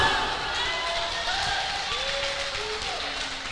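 Church congregation applauding together, a steady broadband wash of clapping at constant loudness with some voices and faint tones mixed underneath throughout.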